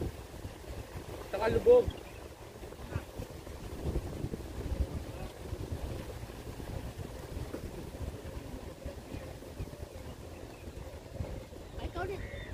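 Wind blows across an open seaside spot by the Museum of Islamic Art in Doha, buffeting the microphone in low rumbling gusts, with people talking over it.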